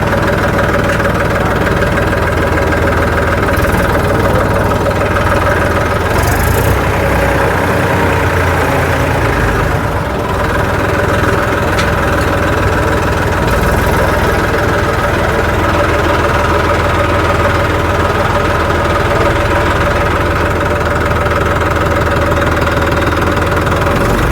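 A Massey 241 Dynatek tractor diesel engine idles steadily with a low knocking rumble and constant vibration, running unchanged throughout with no talking.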